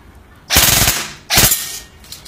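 A KWA Ronin PDW 6 CQB airsoft gun fires full auto in two loud, rapid bursts of about half a second each, close to the mic, with a faint click trailing afterward.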